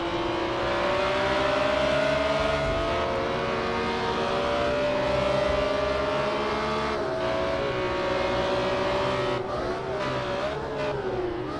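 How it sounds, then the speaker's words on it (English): A BMW M1 Procar race car in Project CARS 2 revs hard toward the red line: a loud, steady, throaty engine roar that climbs in pitch, dips briefly at a shift near the end, then rises again. "Hitting the red line on these M1 Procar. Just a throaty beast full of horsepower."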